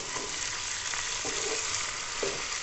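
Chicken pieces sizzling and frying in a pan while being stirred, a steady loud hiss with occasional scraping from the stirring utensil, no talking.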